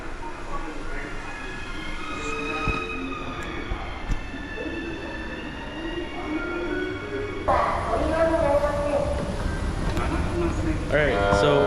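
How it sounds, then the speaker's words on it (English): A Nanakuma line subway train in Fukuoka, Japan, rumbles along with squealing wheels and rising electric whine, loud and close, with faint talk mixed in the background. "Going for the Nanakuma line on the subway."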